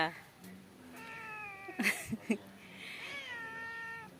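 A cat sheltering indoors from the rain meows several times in a row, close by, its drawn-out calls mixed with short chirps, while a person talks to it gently in between.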